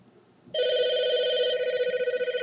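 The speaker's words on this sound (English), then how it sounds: "take a look while I answer this damn phone" A telephone bell starts ringing after a short quiet moment, a loud steady electronic trill that keeps going and pulses slightly toward the end, with no voices over it.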